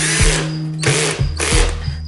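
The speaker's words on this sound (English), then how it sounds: "I'm gonna screw it down first" A power driver screws down a part of a plastic animal cage, giving several quick whirring, ratcheting bursts close by, each a fraction of a second, with short pauses between them.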